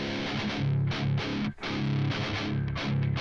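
Heavy distorted electric guitar chugging through an amp simulator with an EQ cut, dense and loud, riffing in bursts with a brief gap in the middle.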